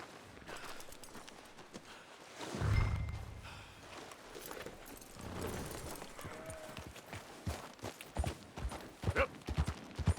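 Rhythmic horse hoof clops in Red Dead Redemption 2 thud along, a heavy thump partway through, with more rapid hoofbeats toward the end.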